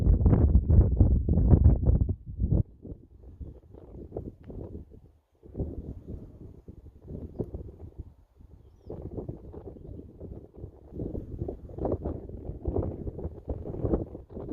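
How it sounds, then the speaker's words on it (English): Gusty wind buffeting the microphone in heavy, uneven rumbling bursts that rise and fall over about fifteen seconds, with no one speaking. "Just going to enjoy the windy nature."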